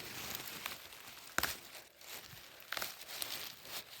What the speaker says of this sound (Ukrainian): Я на всякий випадок пакет взяла.